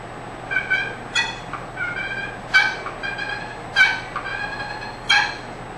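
A hand-operated turkey call mimics turkey vocalizations, producing short bursts of bright, raspy clucks and yelps in a repeating pattern, fairly close and clear against a quiet background with no talking.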